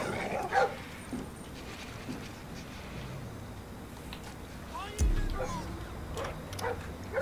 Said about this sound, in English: So dog, and what else? Just one dog?